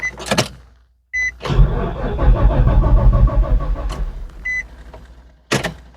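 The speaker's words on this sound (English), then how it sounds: "Let's see if the car turns over." A 2007 Nissan Xterra engine cranks over without starting after a crankshaft sensor replacement, a steady churning starter rhythm of about two and a half seconds, bracketed by short electronic chimes and sharp clicks.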